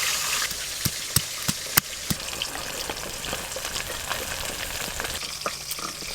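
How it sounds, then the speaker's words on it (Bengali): Fish sizzles as it fries in hot oil, a steady crackling hiss broken by sharp spattering pops, heard close with no talk. "ভালো করে ভাজ একটু কড়া করে"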